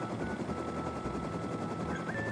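A helicopter in the survival video game Rust gives a loud, steady rotor drone with low rhythmic thumping, continuous for the whole stretch with no talk over it.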